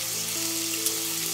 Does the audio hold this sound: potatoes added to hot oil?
yes